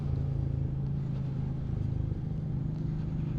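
A Royal Enfield Meteor 350 motorcycle under way gives a steady, low engine drone that holds an even pitch with little change throughout.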